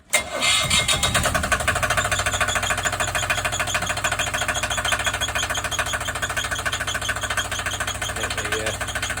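A sailboat engine on a Cobra 850 cranks and catches, then settles into a loud, steady rhythmic chugging idle that runs on without a break; its alternator belt is a little loose.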